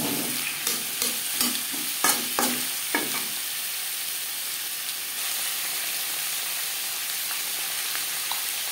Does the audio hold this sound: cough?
no